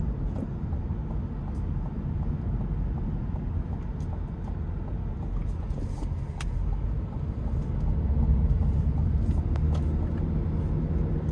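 Cabin of a 2026 Cadillac CT4 Premium Luxury with the 2.0-liter turbo engine while driving, a steady low road and engine rumble throughout with faint ticks, swelling slightly louder toward the end, with no speech.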